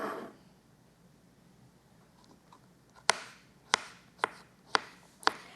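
Zucchini squash sliced on a board with a kitchen knife for a lemony saute: five sharp, evenly spaced chops in the second half, close and crisp, after a quiet start.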